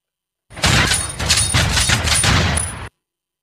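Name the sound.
shotgun sound effect from V8 sound card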